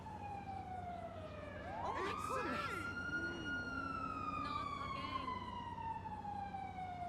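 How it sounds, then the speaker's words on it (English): A police siren in GTA 5 wails with a long rising and falling tone over a low engine hum, steady and fairly distant, with a brief warbling burst partway through. "Do I hear sirens already? I hear sirens."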